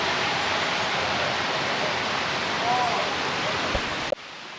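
Hidden Falls waterfall in New Zealand roars as a steady, loud broadband rush of falling water, continuous and close, cutting off abruptly near the end.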